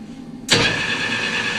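A metal lathe chuck starts spinning at 395 RPM, switching on abruptly from near silence into a steady whirring motor hum with a sustained whine that holds to the end, close and fairly loud.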